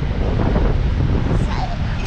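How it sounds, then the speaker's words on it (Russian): Strong sea surf driven by wind on a cold day at Anapa on the Black Sea coast, a steady loud roar of waves and gusting wind buffeting the microphone throughout, with no clear breaks. "А волны сегодня сильные."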